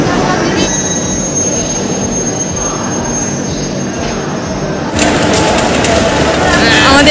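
A Yesvantpur–Howrah express pulls into Howrah station with a loud, continuous rumble of rolling wheels and a thin metallic squeal, and the noise swells near the end. Voices murmur beneath it.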